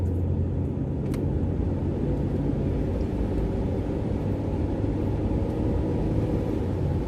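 1994 Jeep Cherokee with an inline six cruising along, a steady low engine and road rumble heard from inside the cab, continuous and moderately quiet with no talking.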